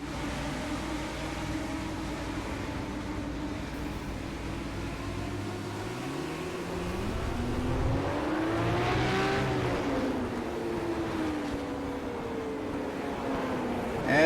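Race cars roar around the track at Langley, engines droning steadily and then swelling as one revs and sweeps past with a rising and falling whine. The field is heard from a distance and nobody talks.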